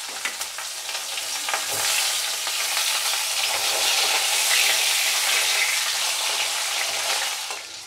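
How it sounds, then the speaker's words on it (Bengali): Cubed potatoes fry in hot oil with panch phoron spices and fresh green chillies, a loud, dense, continuous sizzle that swells and holds steady for several seconds, heard alone without talking. "আলুগুলো ভাজা হতে হবে একটু।"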